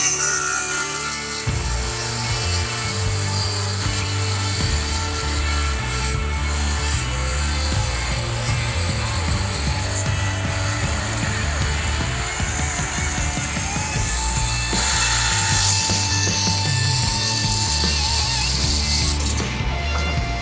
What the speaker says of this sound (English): That's a 1/2 inch flange on this beam we're gonna cut with a standard circular saw.